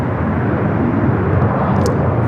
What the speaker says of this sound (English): Arrival is that heavy coming in from Tokyo Haneda. American Airlines Flight 26, an 8-year-old 787-9 Dreamliner.